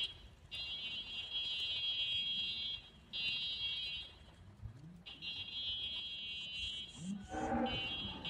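Highland cattle on a farm give a short, low moo near the end, heard beneath a loud, high electronic tone that repeatedly switches on and off throughout.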